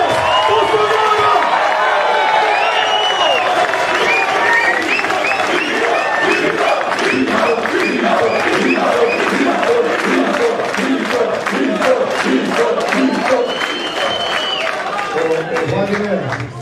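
A large rally crowd of about two thousand in Fortaleza claps and cheers for Jair Bolsonaro, with continuous loud applause, rhythmic chanting and shouts filling the whole stretch, while voices carry throughout.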